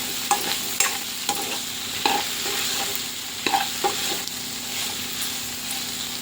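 Curry of ridge gourd (dosakaya) and tomato being stirred with salt in a frying pan: steady close sizzle with repeated spatula scrapes and taps, no talking.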